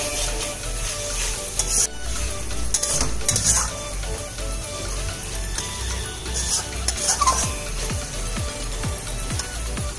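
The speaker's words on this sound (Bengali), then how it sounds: "ভালো করে কষিয়ে নিতে হবে যেন মশলা গন্ধ না" Spices sautéing in a pan for an eggplant and mutton curry, a steady sizzle with repeated scraping stirs and occasional utensil clinks close by, no voices.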